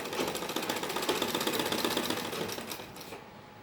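A sewing machine running a straight stitch on salwar fabric, a fast, even mechanical rattle of needle strokes that holds steady before stopping near the end.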